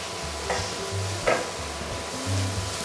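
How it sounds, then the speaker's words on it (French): Onion and spices sizzling in a pan as a vegan burrito filling is stirred, soft steady frying hiss broken by a few scraping strokes of a utensil, close and alone without speech. "Donc on remue pendant environ 2 à 3 minutes avant de venir mettre la tomate"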